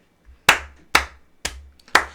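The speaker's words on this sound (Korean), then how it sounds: "박수" Four sharp hand claps at an even, deliberate pace, close and crisp, with quiet between them.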